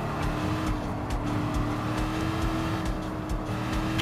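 A Lamborghini's engine in Gran Turismo 7 at Willow Springs Speedway holds a steady, loud drone with a sustained tonal whine and no talking.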